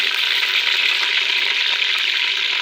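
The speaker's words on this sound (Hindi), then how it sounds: "बहुत तेज़ गर्म घी के अंदर चिकन डाला है।" Chicken fries in very hot ghee in a cooking pot, giving a dense, continuous loud sizzle and hiss that holds steady throughout.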